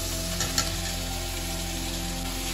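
Potatoes and prawns frying in a spice paste in a pan, a steady loud sizzle with a couple of brief clatters as the pieces go in and are stirred.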